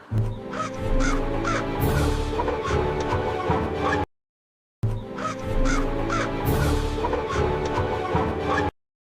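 A crow caws several times, loud and close, over a busy musical background. The passage repeats after a brief silence.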